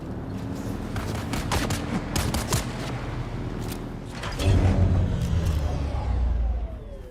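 Scattered gunfire in the video game Dune Awakening, a mix of single shots and short bursts aimed at the player, with a heavier rumbling volley swelling partway through and continuing to the end.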